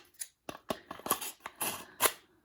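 Scissors being snipped open and shut inside a scissor sharpener, a series of about eight sharp metallic cuts at an irregular pace, close and clear with no talking.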